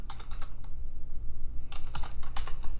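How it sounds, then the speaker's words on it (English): Fast bursts of clicking keystrokes on a computer keyboard, nearby and crisp, with a short pause midway before typing resumes. "you can just click anywhere and start typing"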